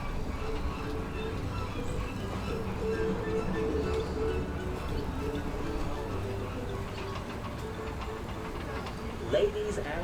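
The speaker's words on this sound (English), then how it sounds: "Please alight on your right when the tram comes to a complete stop." An open-air tram rolls through Jurong Bird Park with a steady low rumble and faint rhythmic ticking of wheels, under a continuous background murmur and a brief louder clunk near the end.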